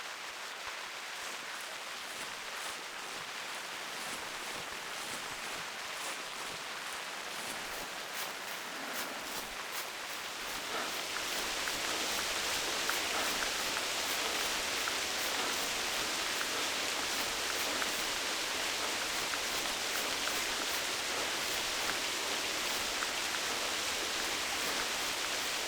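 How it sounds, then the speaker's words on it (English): Steady rain hisses in the hunting video game The Hunter Classic, a broad continuous wash that grows denser and louder partway through and holds steady after that. "We got the rain going"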